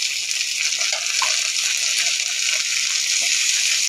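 Chopped tomatoes are tipped into hot oil with frying onions and bay leaves in a kadai, giving a loud, steady sizzle and hiss close by with a few wet splutters throughout.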